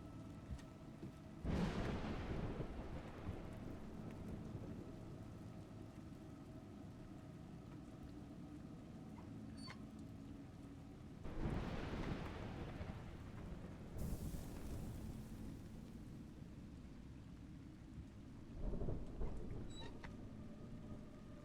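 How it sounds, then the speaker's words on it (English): Rain falls steadily under three rolling thunder rumbles, spaced far apart and swelling then fading, in a steady storm ambience with no talk. "It's raining."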